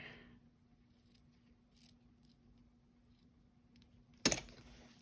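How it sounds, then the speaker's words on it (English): A single quick snip of scissors cutting paper near the end, brief and crisp, after several seconds of near silence with a faint steady hum. "And where'd my scissors go?"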